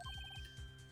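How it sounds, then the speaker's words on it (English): A phone ringtone in the Phoenix Wright: Ace Attorney video game, a quick run of bright electronic beeping tones repeating over a soft low pulse, brief and fairly quiet. "I heard a phone ring just now."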